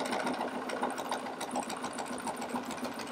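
A quilter's sewing machine restitches a pieced seam, running in a fast steady rhythmic whir without pause throughout, close and alone with no talk.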